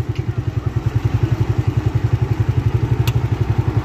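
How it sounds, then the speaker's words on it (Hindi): A tractor engine chugs close by as it arrives to unload at a market work site, a loud, steady pulsing thump with a fast, regular rhythm and no talking. "ये ट्रैक्टर यहाँ पर जी अभी इससे आता हुआ यहाँ पर अनलोड करेंगे जी"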